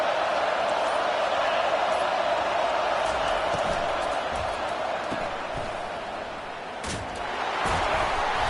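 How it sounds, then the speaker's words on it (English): A football stadium crowd roars in a steady, loud wash of noise on first and goal during a Texas vs Alabama game, with only slight dips in the din. "Fans are bringing the noise on 1st and goal."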